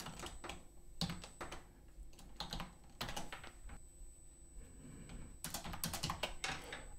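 Alt codes being typed on a computer keyboard, with quiet irregular bursts of key taps separated by short pauses and then a quicker cluster near the end.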